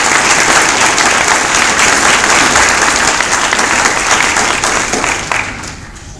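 An audience at an award ceremony gives warm, continuous applause to an award-winning school team, with thick, even clapping throughout that tapers off near the end.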